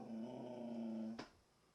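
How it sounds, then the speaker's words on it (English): Dog giving a short low growl or grumble, close and quiet, ending in a brief sharp yip before falling silent. "I don't know what he's barking about"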